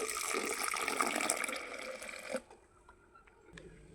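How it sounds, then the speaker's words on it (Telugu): Water is poured into a Herbalife shake mix of protein powder, making a close, splashy stream for a little over two seconds before it tapers to quiet, faint trickles and clinks. "దీనిలో సరిపోయినన్ని వాటర్ యాడ్ చేసుకుందాం."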